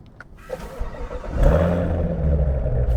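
A 2019 Corvette C7 Z06 starts up with its exhaust valves closed: a couple of clicks, a brief crank, then a loud bark that settles into a deep, steady idle close by.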